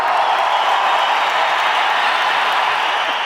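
A large audience at a film event in Tamil Nadu gives sustained applause that sounds like a broad, even wash of clapping. It fills the hall loudly without pause.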